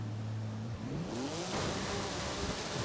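Video-game car in Forza Horizon 5, built for wheelies, spinning out under power: a loud, steady engine drone with pitch sweeping up and down through gear and revs, joined by a broad hissing roar of tyres and noise.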